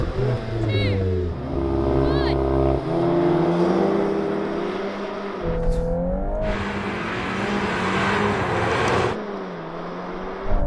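A VW Golf R Mk8 and a Mk7 launch side by side in a drag race, with loud engines revving and climbing through rising gear-change sweeps, close and dominant, as a voice counts down over the start.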